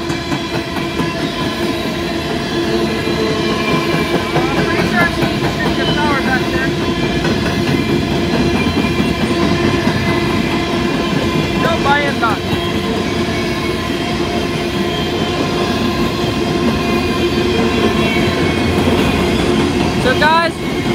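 A Norfolk Southern freight train led by a long-hood-forward ES44AC locomotive rolls past close by, with a loud, continuous rumble and steady wheel clatter, plus brief squeals and tonal engine drone.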